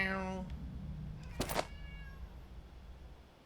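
A single cat meow from the video game Pathologic 2, a short tonal cry at the start, followed by a faint thump and quiet background.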